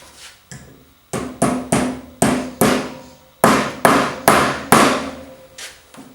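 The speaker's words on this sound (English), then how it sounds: "Go get my hammer and tap that in." A hammer taps a furniture glide into a dresser foot: around a dozen crisp, solid knocks in uneven bursts, close up, each ringing briefly before the next.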